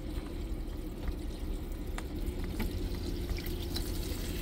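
Water pours steadily from a small tap into a camper van's water tank, a continuous close trickling wash with faint dripping, heard alone without talk.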